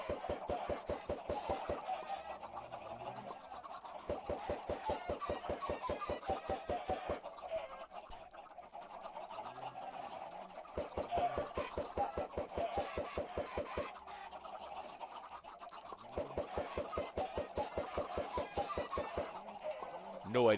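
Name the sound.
chickens clucking in Minecraft video game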